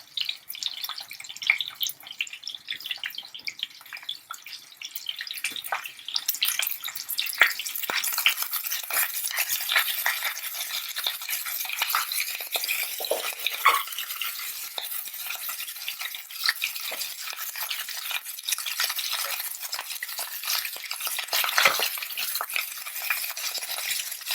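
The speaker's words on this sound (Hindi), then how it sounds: "और एक साइड में गोभी भी फ्राई कर लेंगे" Cauliflower stirred and frying in a pan, a steady close sizzle with scraping and occasional clinks of a utensil running throughout, no talking.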